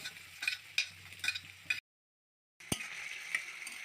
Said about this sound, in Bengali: একটা বড় সাইজের পেঁয়াজ কুচনো দিয়ে দিলাম।